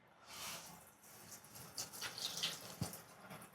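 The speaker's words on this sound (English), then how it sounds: "Hands are washed." Tap water runs steadily into a sink in a rehabbed Chicago house while hands are washed, a soft continuous hiss with small splashes and a brief clunk near the end.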